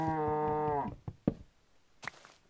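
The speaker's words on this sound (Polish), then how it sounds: "Denerwuje mnie krowa." A Minecraft cow lets out a long, loud moo at the start, then it fades into a few soft clicks and taps from the game.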